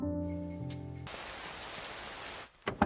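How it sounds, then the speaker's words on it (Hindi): Sudden rain in a Hindi-dubbed anime film: soft music cuts off and a dense, even hiss of rainfall takes over, steady and fairly faint, before a few sharp knocks near the end. "ओहो, अचानक से ये बारिश शुरू हो गई।"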